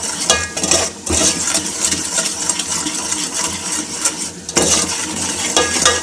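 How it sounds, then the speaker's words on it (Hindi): Spice masala for a fish curry roasting in oil in a pan over medium flame, a steady close sizzle with stirring and scraping throughout, a brief lull near the start and again before the end. "तो मसाले को के साथ भून लेंगे तेल के साथ अच्छे तरीके से"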